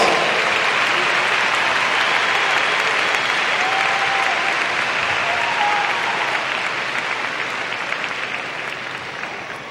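Sustained applause from a large crowd at a high school graduation ceremony, steady and dense, slowly fading toward the end.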